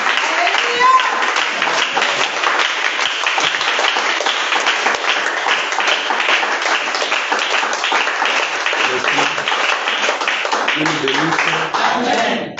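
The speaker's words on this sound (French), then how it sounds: "Acclamez le Seigneur jusqu'à ce qu'il soit là tout clair." A church congregation applauds and cheers in praise, a dense, sustained wash of clapping and voices filling the room for the whole stretch, with a preacher's voice rising over it.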